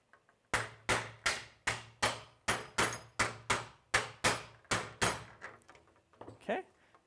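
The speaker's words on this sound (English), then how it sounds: "I could bring my wood block back up and the hammer, and I should be able to send it the rest of the way through." Roughly ten sharp, evenly spaced hammer blows drive a bearing home through a wooden block during an engine intake build, each strike a close, solid thunk, followed by a few softer taps and faint handling noise.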